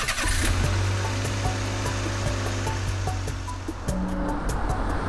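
Animated cement mixer truck with a turning drum, its engine a steady rumbling drone under a broad hiss, with some tonal music-like tones layered on top.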